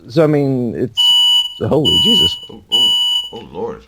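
A household smoke alarm goes off while someone cooks breakfast, giving loud, repeated high-pitched beeps over excited voices that talk and exclaim throughout.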